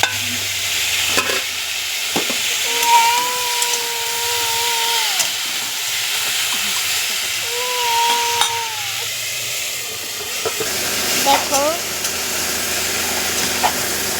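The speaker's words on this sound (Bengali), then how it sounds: "মাছ ভাজা হয়ে গেছে।" Fish fry in a pan with a continuous close sizzle and hiss, broken by occasional stirring clatter and a few brief whistling tones, and no talk over it.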